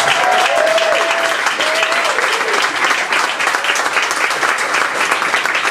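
Audience at the Melbourne International Comedy Festival awards applauding, a dense sustained wash of clapping with a few whoops, loud and continuous throughout.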